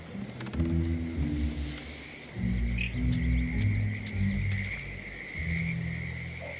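Frogs croak in low, buzzing bursts in the Hitman video game, several overlapping calls repeating over a steady hum of ambience, quiet and without any talking.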